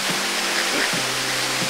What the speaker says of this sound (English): we're gonna enjoy this waterfall